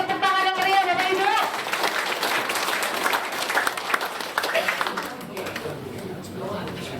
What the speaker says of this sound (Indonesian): Kita beri tepuk tangan yang meriah Bapak Ibu.